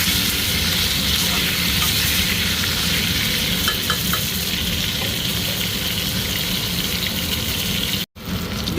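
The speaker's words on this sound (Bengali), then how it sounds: "বেগুন ভাজা হয়ে গেছে দেখুন।" Eggplant fries in hot oil seasoned with salt and turmeric, a dense, steady sizzle filling the whole stretch up close, with a brief clatter and a sudden dropout near the end.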